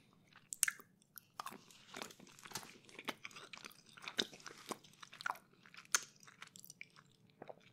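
Salty licorice is chewed very close to the microphone in a quiet room, producing wet, sticky mouth sounds and soft crunchy clicks in an irregular rhythm, with no talking.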